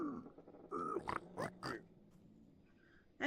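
Minecraft pigs give a few short, quiet grunts close by, with a sharper grunt at the very end.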